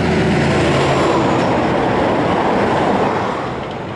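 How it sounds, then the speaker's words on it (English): A road train truck roars past close by in the Australian outback, a loud, steady broadband rumble that begins to fade slightly toward the end. "Land of the road train."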